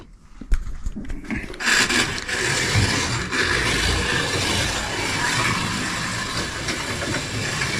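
A Ford J slot car runs on its track, a continuous buzzing whir of the small motor and rolling wheels after a few sharp clicks at the start, steady and close.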